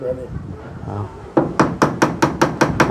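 Nails hammered into wood while builders fit wall panels onto a house: someone talks briefly, then about seven sharp, evenly spaced hammer blows ring out close and loud.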